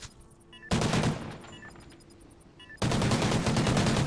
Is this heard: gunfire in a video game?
yes